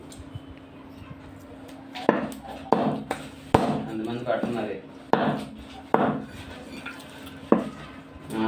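A cleaver chops through a chicken leg and bone on a wooden block, giving sharp repeated thuds at irregular intervals, with a voice talking in between.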